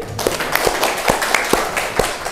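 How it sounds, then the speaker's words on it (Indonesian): Classroom audience claps together during a student-teacher lesson, a short burst of fairly close, loud applause with a few sharp individual claps standing out. "tepuk tangan kembali"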